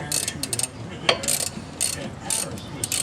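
A ratchet wrench clicks in short bursts while loosening a clamp bolt on the rear brake caliper and parking brake assembly of a Buick, Cadillac or Olds, the quick ratcheting strokes close and fairly loud with brief pauses between them.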